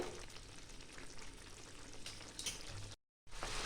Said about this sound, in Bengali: মাছটা এক পাশটা উল্টিয়ে দিচ্ছি।